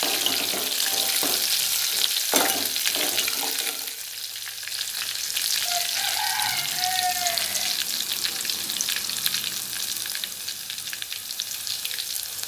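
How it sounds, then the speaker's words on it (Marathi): Moong dal sautés in a hot pan with a steady frying sizzle, joined by scraping stir strokes and occasional louder bursts, continuous and close for the whole stretch. "चांगलं परतून घेऊया"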